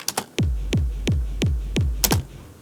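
A clean hardcore kick drum with a little reverb repeats in a steady four-on-the-floor pulse, each punchy hit with a downward pitch sweep and a short tail, loud and alone after a few quick clicks.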